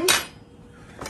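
A metal spoon lifted from a set of kitchen utensils gives a bright clink, then a second softer clink about a second later, close and alone.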